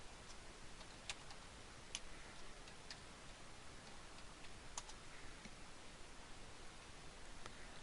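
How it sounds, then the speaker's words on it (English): A few sparse, faint key clicks on a computer keyboard as a search phrase is typed, heard over a quiet background hiss with no talking. "We're just going to type in affiliate program."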